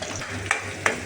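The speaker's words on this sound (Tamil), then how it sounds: "இப்போ கசகசாவே சேர்த்து நல்லா வதக்கிட்டு இருக்கோம்." Poppy seeds sauté with coconut and ginger in a hot pan, giving a soft sizzle with two quick scraping stirs.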